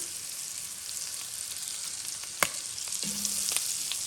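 Meat caramelizing in a pot for a copycat Olive Garden Zuppa Toscana gives a steady, close sizzle with a single sharp clink partway through and a short low hum near the end, with no talk.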